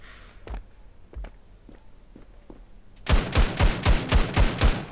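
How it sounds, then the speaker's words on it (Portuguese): P90 gunfire in the Standoff 2 mobile shooter, a rapid burst of about seven loud, evenly spaced shots that follows a few soft footstep-like taps. "é só dar um tiro com a P90"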